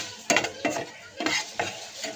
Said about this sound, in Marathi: अशा प्रकारे छान मैदा भाजून घ्यायचा असं सुटसुटेपर्यंत